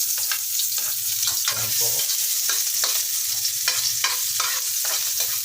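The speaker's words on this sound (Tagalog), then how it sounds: "Ang una po natin gagawin ay igisa ang bawang." Garlic sautés in a hot pan with a loud, continuous, close sizzle. Repeated scraping strokes of a utensil stir it at a steady rhythm, and a voice briefly says a word.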